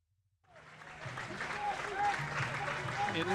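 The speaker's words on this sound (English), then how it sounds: "He gets a nice round of applause" A baseball crowd at an NJCAA District C championship game breaks into applause for player Alec Williams, the clapping swelling steadily from silence and growing louder, with a commentator speaking over it.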